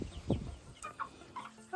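Young chickens bound for a large coop cluck and peep in short, scattered calls. One louder cluck comes near the start, with softer chirps following at intervals.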